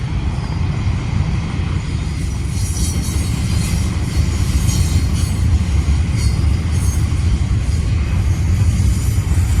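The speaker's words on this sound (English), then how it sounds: "down came a Norfolk Southern westbound with an old leader" A westbound Norfolk Southern freight train rolls past close by outdoors, loud and continuous, with heavy rumbling, rattling cars and faint squealing wheels throughout.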